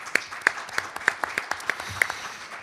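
Sparse applause at a trust company launch event in Philadelphia, a handful of distinct, evenly spaced claps from a small group, close and crisp.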